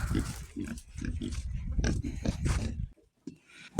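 Vietnamese pot-bellied pigs grunt and snort up close in a farmyard sty, a busy run of rapid low grunts that stops abruptly near the end, with one brief squeal after.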